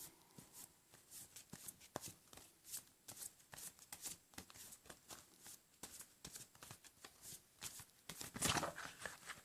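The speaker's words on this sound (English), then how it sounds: "I will take 3 cards for you from the past life oracle card" Oracle cards from the Wisdom of the Hidden Realms deck are shuffled by hand in quiet, rapid riffling bursts. Soft papery flicks and slaps repeat unevenly close by, with no talking.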